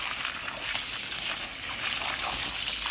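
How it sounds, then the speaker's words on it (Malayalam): Water diluted with chicken manure is poured over garden plants, making a steady, close splashing trickle that runs unbroken with no talking. "ഈ കോഴിവെള്ളം ഇട്ടുകൊണ്ട് നന്നായിട്ട് വെള്ളം ഒഴിച്ച് കൊടുക്കും"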